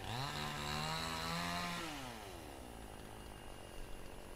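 Chainsaw running nearby beside rice paddies on a farm, a steady loud engine whine that drops in pitch midway and then idles lower, continuous with no talk.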